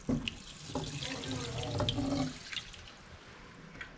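Water splashes and trickles into an Instant Pot with rice at close range, quiet and irregular, fading out toward the end.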